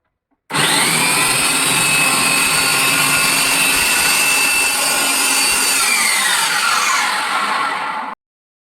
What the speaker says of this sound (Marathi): आता कटर जोडते. मग ह्याच्यामध्ये तुम्हाला स्लाइसमध्ये ज्या गोष्टी कट करायच्यात ना, तर त्या कट करू शकतोय आपण.